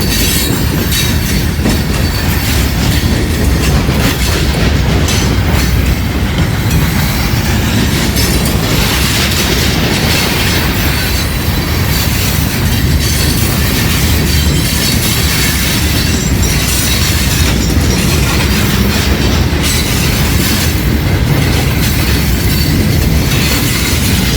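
Loud, continuous rumble of a long loaded rock freight train rolling by nearby, steel wheels clacking and grinding, with intermittent high squeals over the steady roar, crossing the Little Miami River.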